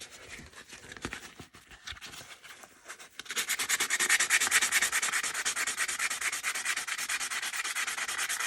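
Sheet of 150 grit sandpaper rubs over a knife being restored, poly finish on it, with uneven scratchy strokes at first, then a steady, loud, rapid back-and-forth sanding rasp.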